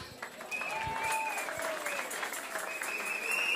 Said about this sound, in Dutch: Mogen we nog een keer een daverend applaus voor de dames.